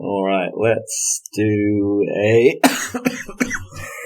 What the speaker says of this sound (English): No, it's a cough, I'm afraid.